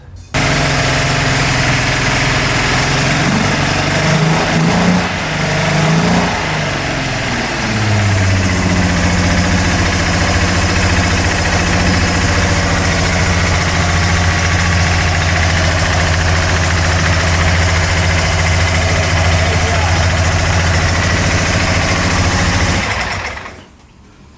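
A 1975 Datsun 280Z with triple carburetors and an exhaust leak idles steadily and loudly for about twenty seconds with a rough, rumbling exhaust tone, revving slightly early on before cutting off.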